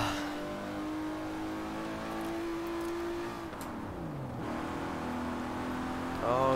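A racing car engine in Forza Horizon 4 holds a steady high drone, then drops in pitch as the car turns in before climbing again into a sharp rev at the end.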